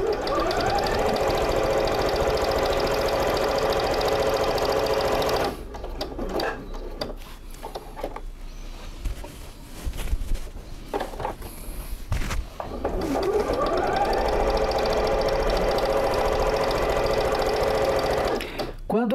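Sewing machine stitching binding on a patchwork quilt, steady close mechanical whirring that stops midway for a stretch with handling noises and someone speaking, then resumes running.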